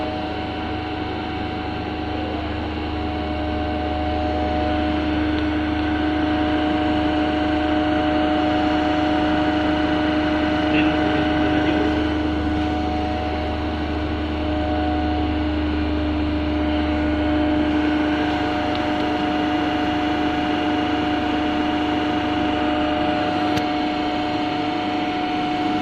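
A DC motor runs steadily during Swinburne's test, giving a continuous tonal hum with a low rumble that holds loud and even from start to finish, with no talking.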